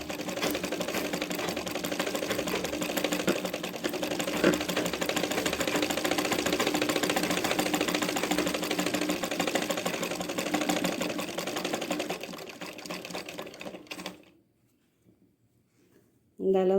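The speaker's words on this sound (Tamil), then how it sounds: "நான் இப்போ உங்களுக்கு மீடியம் சைஸில் தான் நான் ஸ்டிச் பண்ணி காமிக்கிறேன்" A sewing machine runs steadily for about fourteen seconds while stitching a latkan rope for a blouse at medium stitch size, with a continuous rattling whir that stops abruptly near the end.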